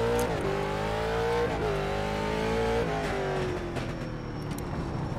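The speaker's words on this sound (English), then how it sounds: "Let's see what a stock car feels like around here." A stock car engine roars continuously on the Los Angeles Memorial Coliseum track in a NASCAR racing video game, its pitch rising and falling through gear changes and throttle lifts, loud and close with no talk.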